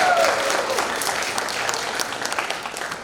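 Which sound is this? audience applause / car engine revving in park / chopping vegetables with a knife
audience applause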